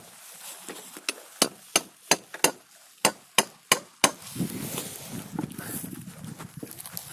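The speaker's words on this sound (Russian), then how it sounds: "Надо еще раз молотком, там это, древесина обратно сомкнулась." Hammer blows drive a tap into a birch tree outdoors, about ten sharp, evenly spaced knocks, followed by softer rustling and handling sounds.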